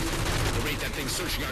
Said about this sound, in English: I'm getting shot at repeatedly.